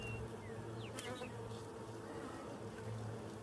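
Honeybees hum steadily around a beehive in a Colorado backyard apiary. The buzz is close and continuous, with a few individual bees flying past the microphone.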